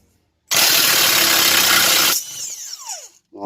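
A loud power tool bursts on for about a second and a half, removing a bolt from a 2007 Chevrolet Colorado wheel bearing assembly, then winds down with a falling whine and a few rattles before stopping.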